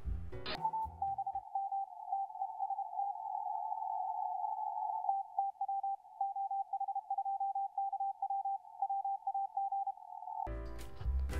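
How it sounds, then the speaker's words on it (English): Morse code received by a software-defined radio on the 20 meter amateur band plays as a steady single-pitch tone keyed into dots and dashes for about ten seconds, clean and loud, with brief bursts of static at each end. "Let's go to the 20 meter amateur band and zoom in and try to receive some Morse code."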